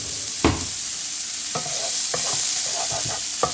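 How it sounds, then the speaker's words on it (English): Onion and jalapeno softening in a hot pan, stirred with a wooden spoon: a continuous bright sizzle broken by several close, knocking scrapes of the spoon, with no voices. "We're just going to cook these till they're tender or softer. Use a wooden spoon, don't use metal."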